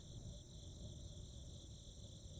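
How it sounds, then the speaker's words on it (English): Crickets chirp in the video game The Darkside Detective, a faint, steady layered trill holding without a break over a low ambient rumble, with no one speaking. "There's a chirping sound from over here. Crickets, maybe?"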